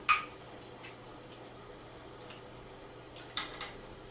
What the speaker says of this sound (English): they start clicking like that, and that's the sound of these jars sealing